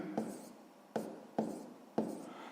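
Pen or marker strokes on paper while jotting down a percentage answer to a sixth-grade math exercise, four short scratchy bursts at a steady pace, close and fairly quiet with no talking.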